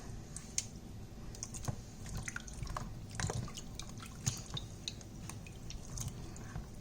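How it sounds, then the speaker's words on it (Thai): Fresh strawberries are rinsed in water. Faint, irregular drips and small wet clicks and taps sound close by in a quiet room, with no talking. "จะล้างล้างสตรอเบอรี่นะคะ"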